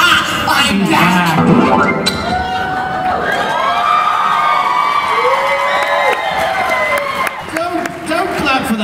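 A live horror convention panel audience at Midsummer Scream cheers, whoops and claps loudly, a dense crowd roar with scattered shouts, while voices speak over the noise.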